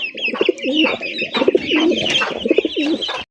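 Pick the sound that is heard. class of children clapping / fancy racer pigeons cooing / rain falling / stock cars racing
fancy racer pigeons cooing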